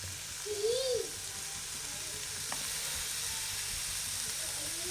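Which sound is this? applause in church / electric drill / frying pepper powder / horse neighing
frying pepper powder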